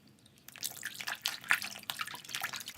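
Water tinted with paint is stirred by hand in a basin, giving close, irregular drips, splashes and sloshing with steady small bursts throughout, no talking.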